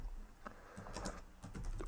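Light, quick keystrokes on a computer keyboard tap out an irregular run of clicks at close range, fairly soft and with no voices.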